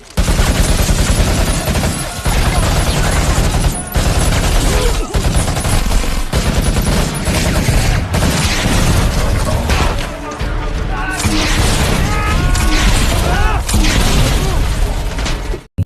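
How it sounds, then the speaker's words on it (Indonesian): A film gunfight at an enemy base: loud, dense bursts of automatic gunfire and shots keep going almost without a break, mixed with booms and mechanical clatter across the whole stretch. "mereka langsung membunuh satu persatu tentara di sana dan aksi baku tembak pun tak"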